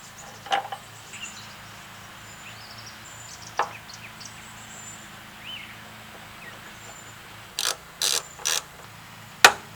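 Ratchet torque wrench tightening truck cab mount bolts to 55 foot-pounds on a GMT400 restoration: scattered single clicks, then a brief run of four sharp ratchet bursts near the end, close and clear over quiet background.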